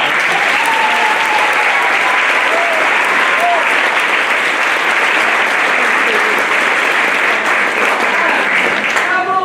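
Sustained audience applause fills a school band concert after an honor band performer is introduced, a dense, steady clapping wash that stays loud and even throughout.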